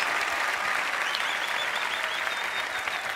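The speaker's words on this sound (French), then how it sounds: "Franck Dubosc, mesdames, messieurs, on peut l'applaudir." An audience applauds a comedian on stage at the Marrakech du Rire comedy festival, a dense, steady wash of clapping that carries through the whole clip without letting up.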